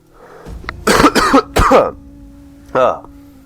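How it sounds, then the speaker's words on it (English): Several harsh coughs in Total War: Rome 2 come in a quick cluster, followed after a pause by one more cough, with a low steady hum in the background. "Nasty cough."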